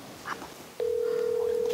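A steady telephone call tone starts partway through and holds alone at a constant pitch, with faint background noise before it, as a woman on a Korean reality dating show phones her mother.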